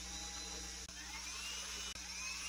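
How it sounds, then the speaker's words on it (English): A drill bores holes in the top of an RC crawler frame, giving a steady high whine that runs faint and unbroken apart from two brief drops. "What I'm going to do is drill just the top part of the frame"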